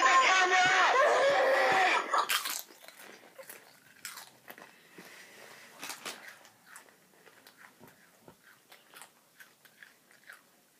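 Spicy Doritos crisps crunched and chewed up close in a series of crisp, irregular bites, following a loud, high vocal outburst at the start.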